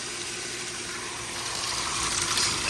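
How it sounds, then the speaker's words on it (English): Water gushing out of a pool DE filter during a full backwash, a steady rushing flow with a faint tonal hum underneath that swells slightly louder toward the end. "I'm gonna go ahead and do a full backwash so that I get all the old DE out."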